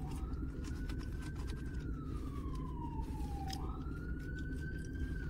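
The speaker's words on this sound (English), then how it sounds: "Is that ambulance passing?" An ambulance siren sweeps steadily up and down as it passes outside, clear but moderately distant over a constant low traffic rumble, with no talking.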